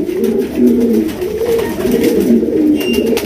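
A pigeon coos repeatedly up close in a steady rolling rhythm of low throaty calls, loud and clear against a faint background.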